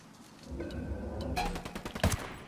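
MK-17 rifle fire in the video game Ghost Recon Wildlands, a short close burst of sharp shots followed by a couple of louder single cracks, with no talk.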